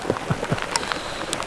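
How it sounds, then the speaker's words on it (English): Hail falling in a warm geothermal area of Yellowstone National Park, a steady patter of small pellets striking the ground and surfaces nearby, with no voices. "It's hailing right now"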